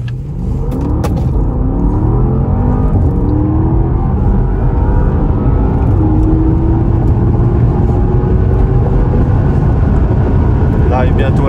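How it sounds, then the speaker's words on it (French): A 2020 Porsche Panamera E-Hybrid Sport Turismo accelerates hard at full throttle, heard from inside the cabin as a loud, steady low engine rumble with rising tones over about eleven seconds. "On fait simplement une accélération franche, pleine charge, jusqu'à temps que moi je dise frein."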